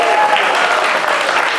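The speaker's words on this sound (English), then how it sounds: "Round of applause for him" Sustained audience applause at a stand-up comedy show in Liverpool, a steady dense clapping that fills the whole stretch with no pauses.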